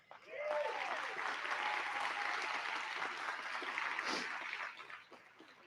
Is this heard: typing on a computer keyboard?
no